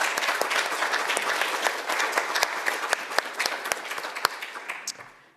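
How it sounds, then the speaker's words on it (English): Meeting attendees applaud the staff in a sustained round of clapping that is dense and fairly loud throughout, with sharp individual claps standing out, then tapers off at the very end. "So can I get a round of applause for our"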